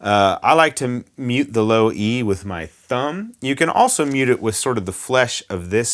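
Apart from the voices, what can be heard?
No everyday noise stands out behind the speech.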